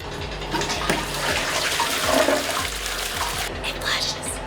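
Toilet on an old 100-year-old cruise ship in Bangladesh flushing, a close, steady gurgling rush of water lasting several seconds with a soft hiss trailing off.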